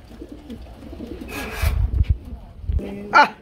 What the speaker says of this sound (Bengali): রেড কালারের মধ্যে fully fresh Lahori running pair